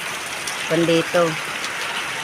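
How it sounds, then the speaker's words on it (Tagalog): Steady rain pours onto house roofs after strong wind has died down, a dense constant hiss filling the whole clip while someone speaks briefly over it. "Ulan po laan."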